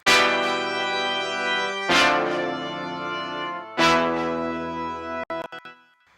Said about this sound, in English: Next up we have the horns,